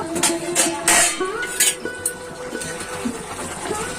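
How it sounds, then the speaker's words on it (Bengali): A metal lid is lifted off a pot of potato and pea curry, giving a few light clinks and scrapes close by, followed by quieter kitchen rustling. "ঢাকাটা এবার একটু তুলে দেখে নিব"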